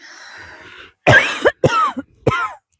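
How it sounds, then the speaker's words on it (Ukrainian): Three harsh coughs in quick succession from a nearby woman in a vegetable garden, following a soft hum of background noise. "Нажми на паузу, мене кашель."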